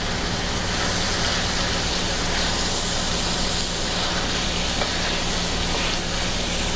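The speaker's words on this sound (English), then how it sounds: "I'm going to give everything a stir." Italian sausage with peppers and onions frying in a pan, a dense steady sizzle like rain, close and continuous with no talk.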